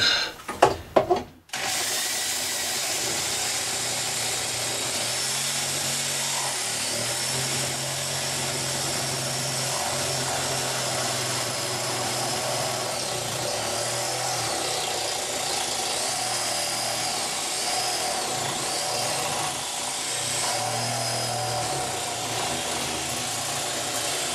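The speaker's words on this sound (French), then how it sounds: "une scie sabre" A reciprocating saw runs steadily and loudly for over twenty seconds after a couple of brief knocks, its motor pitch dipping slightly as it cuts through a toilet pipe connector.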